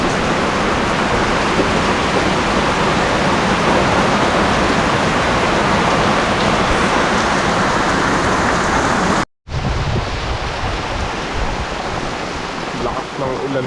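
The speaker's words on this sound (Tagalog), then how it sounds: "Lakas ng ulan, no?" Heavy rain pours down in a dense, constant hiss with no letup, close and loud. It breaks off in a brief dropout partway through, then the downpour carries on just as strong.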